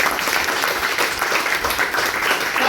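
An audience at a health awareness program applauds, a dense, even wash of clapping from many hands that stays loud and steady from start to finish.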